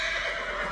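A young horse, an unnamed foal at a racecourse, whinnies loudly and continuously at close range with no voices over it.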